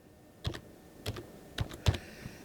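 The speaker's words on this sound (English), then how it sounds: "Type in restore." Several short bursts of keystrokes on a computer keyboard, clustered in quick groups with brief pauses between, close and fairly quiet, with no talking.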